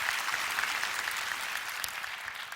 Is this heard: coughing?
no